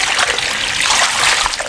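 Water is poured steadily into a chicken drumstick marinade, making a loud, continuous close-up splashing trickle with no pause for almost two seconds.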